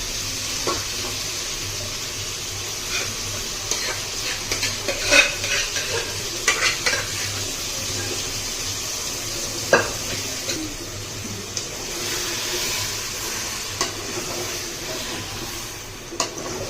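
Spoon stirring drumstick sambar mixed with cooked dal in a pan on the stove, soft continuous sizzling under scattered light scrapes and clinks of the utensil against the pan, close and steady.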